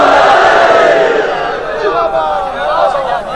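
A large crowd raises a loud, sustained chant of a slogan at a religious gathering, voices massed together and filling the space continuously without a break.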